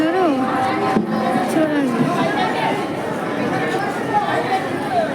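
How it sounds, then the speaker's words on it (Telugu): A dense crowd of passengers getting on and off a crowded free bus fills the air with loud, continuous chatter and babble close by, with one voice talking prominently over it. "బస్సులు నిండా మంది ఎక్కే వాళ్ళు తక్కువ ఉన్నారు దిగే వాళ్ళు ఎక్కువ"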